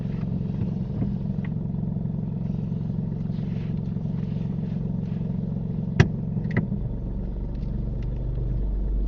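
A learner driver's car pulls away on a road during a parallel-parking lesson, its engine a steady low rumble throughout, with a single sharp click near the end and the engine note swelling louder as it moves off.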